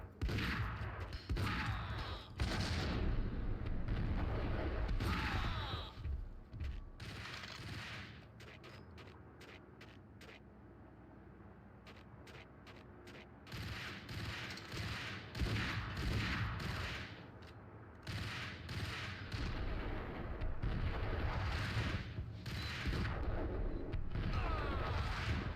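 Gunfire in the Max Payne shooter game, bursts of shots crackling in clusters with a quieter gap in the middle before rapid volleys return, fairly loud and close.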